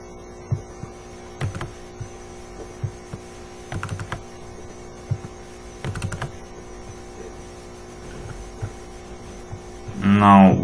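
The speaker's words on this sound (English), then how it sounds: "let's type 2 more stars here." Keys on a computer keyboard are tapped in scattered, soft strokes over a steady electrical hum, with a short burst of voice at the very end.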